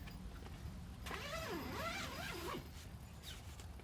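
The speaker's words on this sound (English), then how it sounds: "2 zippers back down." Zippers on a Wolfwise pop-up tent are pulled closed, a couple of quick rising and falling zips in the middle over a low background rumble.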